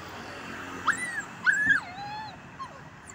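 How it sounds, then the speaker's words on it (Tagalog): A new puppy whimpers close by in a few high, thin whines and yips, one long rising-and-falling cry in the middle, over a quiet background with no talking. "May bagong kang aso."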